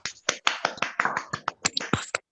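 A small audience at a talk gives a round of applause for a priest speaker: sparse, distinct hand claps in an uneven rhythm, close by, with no talking.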